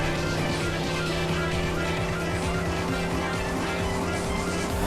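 In a driving video game, a car slides into oversteer with squealing tires over a constant, loud engine drone, heard up close with no talking throughout.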